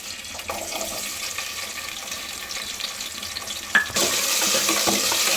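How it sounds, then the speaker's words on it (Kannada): Chopped onion and two green chillies hit hot oil in a home kitchen for mutton chops; after a few quiet stirring clinks, a loud, steady sizzle bursts in abruptly and keeps going. "ಎಣ್ಣೆ ಕಾದ್ಮೇಲೆ ನೋಡಿ, 2 ಹಸಿಮೆಣ್ಸಿನ್ಕಾಯಿ, ಒಂದು ಚಿಕ್ಕದಾಗಿರೋ ಈರುಳ್ಳಿ ಕಟ್ ಮಾಡಿ ಇಟ್ಕೊಂಡ್ಬಂದಿದ್ದೆ"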